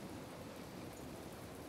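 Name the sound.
rain falling in the Planet Explorers video game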